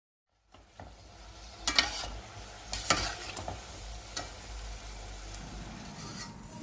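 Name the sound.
beef cutlets frying in a pan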